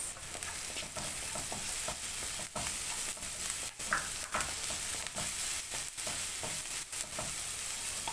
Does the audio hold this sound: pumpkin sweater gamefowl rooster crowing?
no